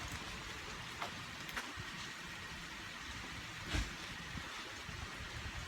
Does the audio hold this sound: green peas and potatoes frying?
no